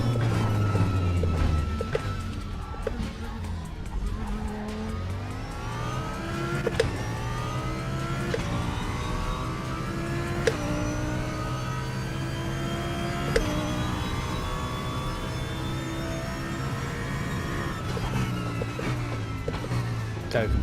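In the RaceRoom racing game, a race car engine revs and climbs through the gears in repeated rising sweeps, loud and close, with a driver's voice talking over it at times.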